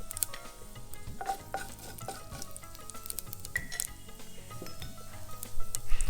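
Fenugreek and mustard seeds sizzling and popping in hot ghee, a crackly steady fizz with sharp scattered pops and occasional spoon clinks, close and clear.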